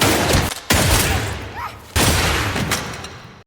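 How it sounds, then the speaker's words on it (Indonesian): Three loud pistol gunshots crack out in a Korean drama film, spaced irregularly, each sharp blast followed by a long fading echo. "ia segera meraih pistol milik Muklis dan kemudian menembak Saipul"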